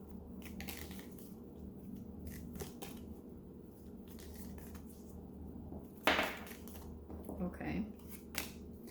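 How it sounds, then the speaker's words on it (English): Tarot cards are handled and shuffled, giving faint papery rustles, slaps and a few crisp riffle bursts, quiet and close, with soft talk around them. "let me grab a couple of cards here"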